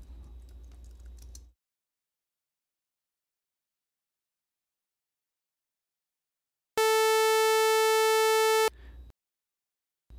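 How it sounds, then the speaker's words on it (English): A Web Audio API sawtooth-wave oscillator sounds a bright, buzzy, steady tone for about two seconds, cutting in and out sharply. Soft computer-keyboard typing comes before and after it. "let's hear the sawtooth type."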